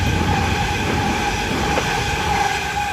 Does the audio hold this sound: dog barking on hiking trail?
no